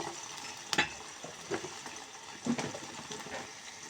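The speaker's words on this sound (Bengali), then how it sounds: "আমি পেস্টটা নরম করে একটু বেজে নিচ্ছি" Ginger, garlic and cumin paste fries in a pan for a fish curry, a soft steady sizzle broken by a few sharp scraping stirs of a spoon near the start and middle.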